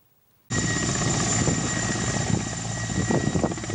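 A helicopter arriving in the Kanin tundra of the Nenets region roars in suddenly, its loud, steady rotor and engine noise holding close and constant with no voices.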